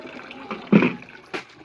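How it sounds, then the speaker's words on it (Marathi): A thin trickle of water runs into a storage tank in short uneven bursts, fairly close, with a louder gush near the middle and another brief surge toward the end, no voices. "काय बारीकच पाणी यायला लागले टाकीत"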